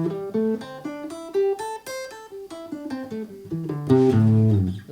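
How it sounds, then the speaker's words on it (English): A minor pentatonic scale is played note by note on a pitched instrument, with clear separate tones that step along and end on a fuller, sustained chord-like note. "And the basis of it is in a pentatonic minor scale,"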